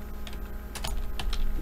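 Key clicks on a computer keyboard while an image source name is entered in the OBS Classic streaming program, a few quick taps clustered near the middle and end, close and clear over a low steady room hum.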